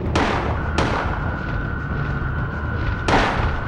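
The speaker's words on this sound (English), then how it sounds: "I also feel like I'm wasting the shotgun." Shotgun blasts in the Silent Hill video game, three sharp loud reports spaced unevenly, over a constant droning tone and low rumbling background.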